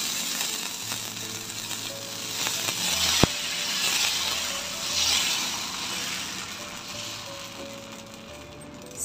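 Dosa with onion frying on a hot pan, a steady soft sizzle throughout, with a single sharp metallic tap partway through and faint background hum.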